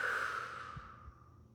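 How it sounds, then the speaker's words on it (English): A single slow exhale during a meditation breathing exercise, soft and airy, fading gradually from a breathy rush into quiet. "and breathe out."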